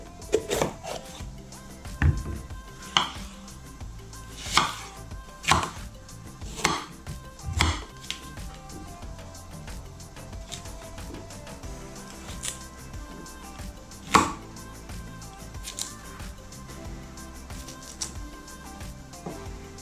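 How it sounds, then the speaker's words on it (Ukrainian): A knife chops vegetables on a cutting board in a series of distinct, irregular thuds with quiet pauses between them. No one speaks. "Поріжемо овочі."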